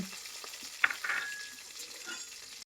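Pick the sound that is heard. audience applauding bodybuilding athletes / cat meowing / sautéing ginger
sautéing ginger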